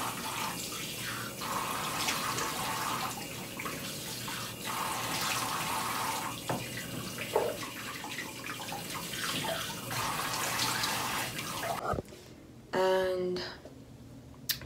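A tap runs steadily while a face is washed with a beauty cream bar, a continuous close hiss of flowing water, then it stops near the end, followed by brief handling noises.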